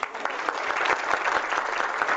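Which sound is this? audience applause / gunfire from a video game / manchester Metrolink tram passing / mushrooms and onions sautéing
audience applause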